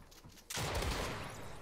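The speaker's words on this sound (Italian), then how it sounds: "ogni volta che posiziono la scala sparo col pompa" A single loud, booming blast from a pump shotgun in Fortnite erupts after a quiet moment, its noisy burst lingering and decaying over the following second.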